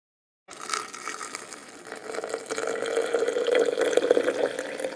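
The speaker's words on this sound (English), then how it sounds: "And I'm going to pour in my hot water." Hot water poured into a French press over loose leaf tea of goldenrod, mint and stevia, a close, steady gurgling pour starting abruptly and growing fuller and louder as the vessel fills.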